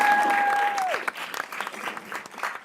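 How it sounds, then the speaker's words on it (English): Applause for outstanding band seniors at a county commissioners meeting: a brief burst of scattered clapping from a modest crowd, starting after a short tone fades and continuing loosely to the end. "Help me give a round of applause for our outstanding band seniors"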